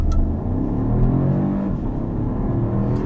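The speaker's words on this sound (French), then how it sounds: "Si je me mets en mode sport, je vais accélérer à fond." A BMW 1 Series with a small 1.5-litre engine accelerates at full throttle in sport mode, heard from inside the cabin as a loud, continuous rising engine drone with heavy low rumble and no pauses.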